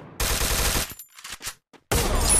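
Loud bursts of gunfire from the Free Fire mobile battle royale game, a sustained volley, then a few scattered shots and a brief silence, followed by another heavy burst.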